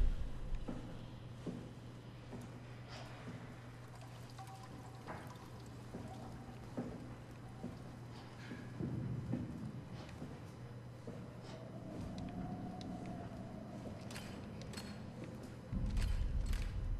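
Dripping and creaking in the eerie game Soma, with scattered drips and taps over a low mechanical hum, faint creaks, and a swelling groan that comes and goes, all without speech.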